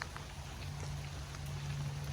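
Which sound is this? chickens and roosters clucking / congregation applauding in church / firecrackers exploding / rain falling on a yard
rain falling on a yard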